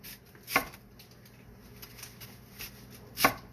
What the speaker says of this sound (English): I'm just going to take the red onions and cut them into like a 1/2 inch